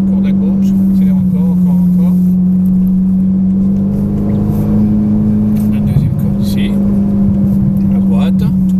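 A Ferrari accelerating hard on a racetrack, its engine a loud, steady, close drone with a slight pitch shift midway, with an instructor talking over it.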